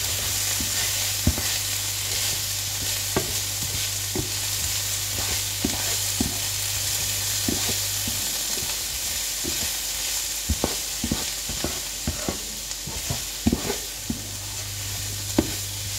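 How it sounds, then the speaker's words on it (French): Corn fries in a pan under a steady, close sizzle, broken by irregular scrapes and clacks of a utensil stirring it, with no talking. "Donc on va remuer un petit peu."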